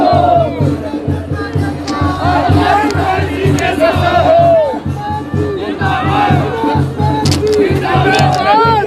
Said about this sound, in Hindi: जिंदाबाद के नारे लग रहे हैं।